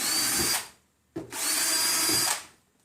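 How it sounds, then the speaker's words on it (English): Power drill boring 1/8-inch pilot holes through plastic spacers, two loud sustained bursts of whining motor and cutting noise separated by a short pause, close up with no talking. "it's a good idea to go ahead and drill you some pilot holes in through this plastic"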